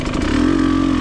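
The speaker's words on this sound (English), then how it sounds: "You can see how much the tyres are spinning up, and Stu's running a super soft there." Motorcycle engine revving hard as the rear tyre, a super soft, spins up on a wet, cold, slippery lane, a loud steady mid-pitched drone held close for about a second.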